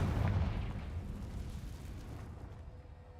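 A Confringo fire spell explodes in the Hogwarts Legacy video game: one deep, booming blast that peaks at once and then rumbles and fades over a few seconds, alone with no voices.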